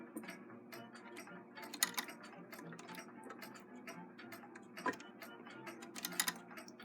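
Mechanism of a Singer 66 lock-stitch sewing machine running, giving a steady ticking, clicking mechanical rhythm with sharper clacks now and then, close and moderately quiet, with no talking.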